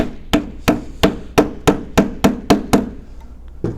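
A small wooden shim is hammered in to tighten a clamp on beekeeping equipment: about ten sharp, evenly spaced knocks, close and loud, with a pause before the last strike.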